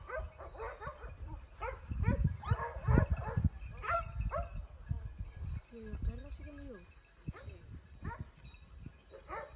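Hunting dogs bark, yelp and whimper in a frantic, overlapping burst while tumbling down a cliff during a fight with a deer, loud at first then thinning into scattered whines, with people shouting over them.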